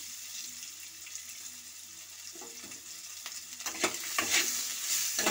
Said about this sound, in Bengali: দেওয়ার পর এটা ভাজা হয়ে গেলে আমি এর মধ্যে আমটা এবার দিয়ে দিচ্ছি